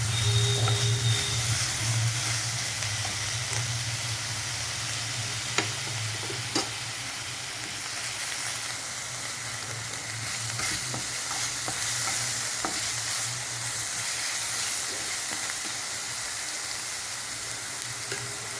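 Onions sizzle steadily in a little oil in a wok, sugar added, with occasional stirring scrapes and ticks over a continuous close frying hiss.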